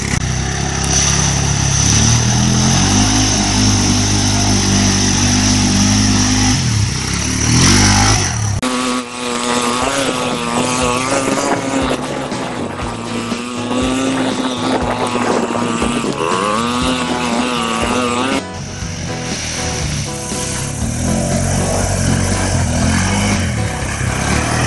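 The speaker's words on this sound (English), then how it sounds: "Closely coming up, you hear backfire." Motorcycle engine revving loudly and steadily close by, the pitch rising and falling through a long run with a short drop in the middle, sputtering and backfire-like pops mixed into the drone.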